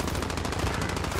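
Rapid automatic gunfire in the Call of Duty Warzone video game, a dense, evenly spaced stream of shots filling the whole moment, loud and continuous with no pause.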